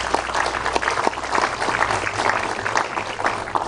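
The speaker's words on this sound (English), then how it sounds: "So will you join with me and give him another round of applause?" Audience applause for a lecturer at a lecture event honoring an ambassador, dense sustained clapping from a large crowd filling the hall, steady and fairly loud throughout.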